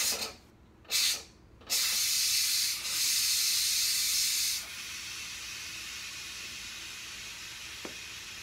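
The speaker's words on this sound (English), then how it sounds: "the best part about having a pressure cooker is getting to release the pressure" Pressure cooker venting steam in a home kitchen: a steady loud hiss interrupted by two short gaps early on, then continuing strongly before dropping to a softer, even hiss for the last few seconds.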